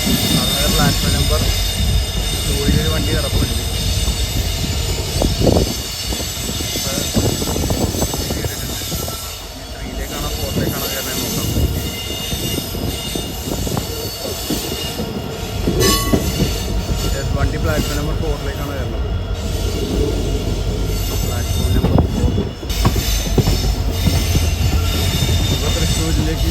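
A Shoranur–Thrissur passenger train stands and moves at platform 2 of Shoranur Junction, with a loud rumbling engine, clattering wheels and occasional squeals, while people talk nearby throughout.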